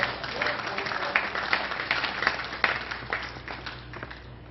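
Indoor crowd applause at an indoor bowls singles final: a short round of steady clapping heard from nearby, fading toward the end.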